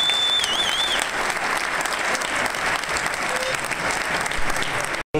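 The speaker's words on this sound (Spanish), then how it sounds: "me gustaría que le diéramos un aplauso y un saludo a toda la gente en Aguascalientes que nos está viendo," Sustained applause from an audience at the Chihuahua launch of the 2013 Feria Nacional de San Marcos, a dense steady wash of clapping lasting several seconds with a whistle early on and a brief drop-out near the end.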